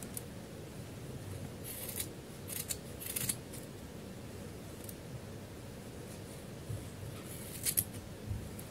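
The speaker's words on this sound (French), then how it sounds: "Donc, on va venir tout découper." Scissors snipping yarn to make pompoms, with several short, crisp cuts in small clusters, close and fairly quiet over a soft steady background hiss, with no talking.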